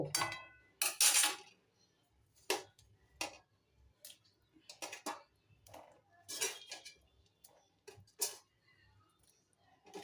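Fried potatoes tumbling into a pot of goat meat curry, with a series of sharp metallic clinks and clatters of utensils against the pot, irregular and close, with quiet gaps between.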